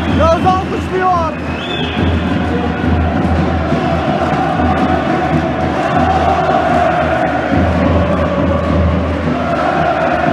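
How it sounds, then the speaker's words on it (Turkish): Handball crowd in an indoor arena during a Merzifon Belediye SK versus Göztepe match, a loud continuous roar of cheering and applause sustained throughout with a faint whistle early on. "Taraftar Yağız'a alkışlıyor"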